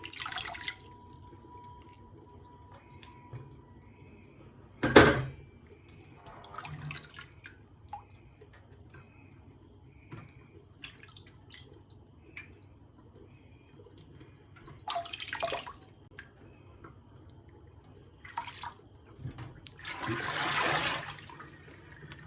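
Water splashes and drips while Irish moss is rinsed by hand in a final wash, several separate bursts of sloshing and trickling spaced out over a quiet background.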